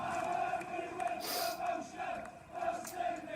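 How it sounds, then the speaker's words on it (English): Away football supporters chant in full voice inside the stadium at a League One match, a loud, continuous crowd roar with rising shouted swells, echoing across the ground. "The away supporters in full voice here."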